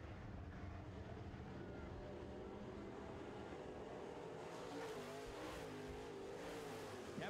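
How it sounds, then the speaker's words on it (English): Modified race cars roar around a dirt oval during a heat race, engines droning steadily with a broad, continuous rumble and rising revs as cars power off a turn, heard at a distance without nearby talk. "Scott Greer gets a great drive off turn number 2 in the DeKalb number 5"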